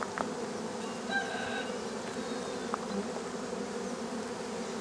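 Honey bees buzzing around an open beehive during a hive inspection, a dense continuous drone of many insects close by, with a few brief louder passes and faint handling knocks.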